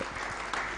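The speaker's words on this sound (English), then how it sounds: "Come on, round of applause." An audience at a convention in Nairobi claps in a brief, dense burst of applause that sounds somewhat distant and moderately quiet.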